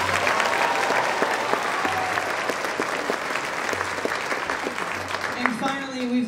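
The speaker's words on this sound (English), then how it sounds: "We'll give you a big round of applause as well." Sustained crowd clapping for the Mid-State Orchestra, a dense even wash of hands with a few louder claps, tapering slightly near the close as voices start to emerge.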